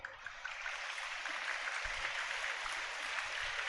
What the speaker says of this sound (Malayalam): അവർക്ക് നിങ്ങളൊന്ന് കൈയടി കൊടുക്കണം ഈ അവസരത്തിന്.